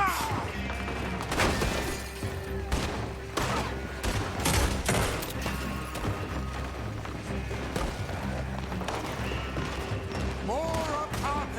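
Gunfire rattles through a shootout in the video game Red Dead Redemption 2, with repeated loud shots, bursts and crashes over a busy battle din, while voices shout at times.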